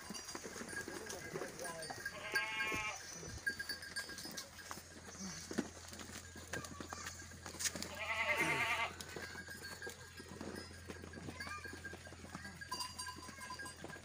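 Goats on a Nepali farm bleat in two clear calls while being fed maize feed, with rustling, faint knocks and quiet background voices throughout.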